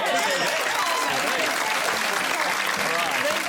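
A television panel-show studio audience applauds loudly and continuously, a dense crowd of clapping close by with voices mixed in.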